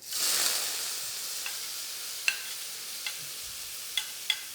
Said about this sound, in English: Smoking hot once again, and my base ingredients for the stir fry can now go in